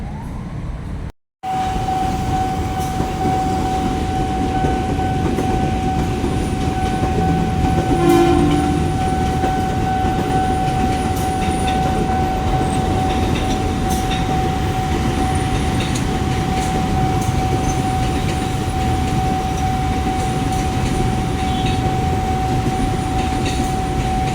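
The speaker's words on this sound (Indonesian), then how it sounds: "contoh kereta nih" A train rumbles past steadily and loudly, with a long, sustained horn tone sounding over the noise throughout.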